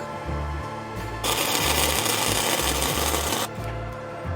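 Stick welding on a motorcycle battery tray fender mount for a rubber-mount Sportster chopper, a steady loud crackling buzz running for about two seconds between quieter pauses, with low machine hum throughout.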